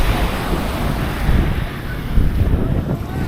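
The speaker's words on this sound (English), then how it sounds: "It's a beautiful beach." Surf washing onto Medano Beach in Cabo San Lucas, a steady broadband roar of breaking waves with gusty wind buffeting the microphone, swelling slightly at intervals, with no voices present.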